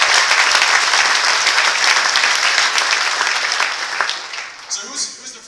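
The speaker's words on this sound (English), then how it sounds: "Special round of applause." Loud, sustained applause from a security conference audience fills the hall, holding steady before thinning and fading out in the last second.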